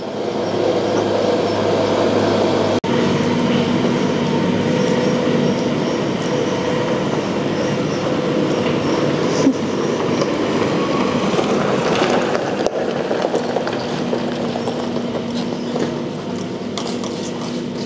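A loud, continuous tractor engine rumble with rattling mechanical noise runs throughout, steady and close, with no talking.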